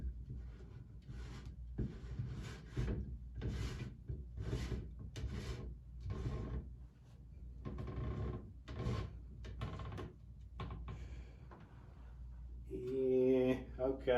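A GE whole-house water filter housing, a plastic container sealed with a large O-ring, is screwed back on by hand, giving close, repeated rubbing and scraping twists with short pauses between turns.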